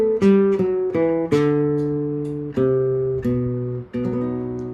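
Plucked guitar notes in A flamenco with a C natural, played solo as a slow series of separate ringing notes and short strums, each attack decaying before the next.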